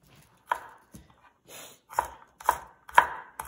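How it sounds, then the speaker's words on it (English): A knife mincing garlic on a cutting board for an oyster-sauce shrimp sauce, with sharp, close chops coming one at a time and then quickening into a tighter rhythm. "mince the garlic"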